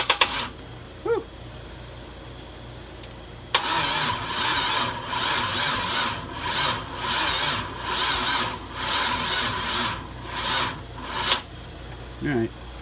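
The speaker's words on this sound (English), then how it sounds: "Is that the starter just not strong enough?" A Dodge Stealth fitted with an LS1 engine cranks on a weak starter: a few brief clicks, then a long labored rhythmic churning that surges and sags repeatedly without catching, followed by short bursts, with voices nearby.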